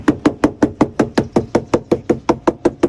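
Rubber door seal being tapped into place on a Honda Freed, a run of about sixteen evenly spaced, crisp knocks at a brisk steady rhythm, close and loud.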